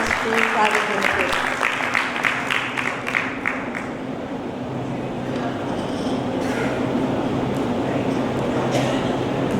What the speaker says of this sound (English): Ladies and gentlemen, let's make some noise and a big round of applause for Dr. K. Nandakumar, Chairman and Managing